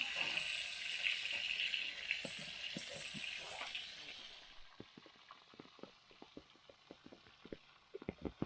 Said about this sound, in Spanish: Ahí está la cabrilla grande que me cabe en la sartén